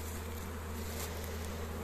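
Bees buzz around a small nucleus hive being moved into a full hive, a soft continuous hum nearby with no voices.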